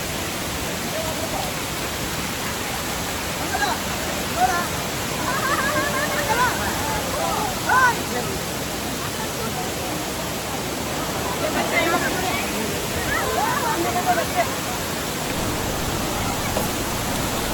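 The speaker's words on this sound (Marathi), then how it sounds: "तरी कोणाकडे आलो अंबोली वॉटरफॉलला" Amboli waterfall in heavy monsoon flow, a steady broadband roar of pouring water that stays constant throughout, with faint brief sounds rising over it.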